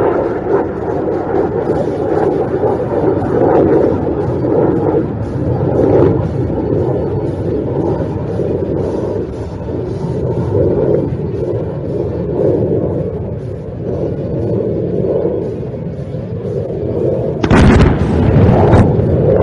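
Heavy explosions from aircraft-dropped bombs striking target tanks at a firepower demonstration on a desert range, a loud sustained rumbling roar of blasts with a sharp burst near the end, heard from a distance without talk.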